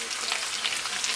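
Red and green bell peppers, onions and carrots hit a hot pan for a shrimp stir fry, giving a steady close sizzle with crackling spatters.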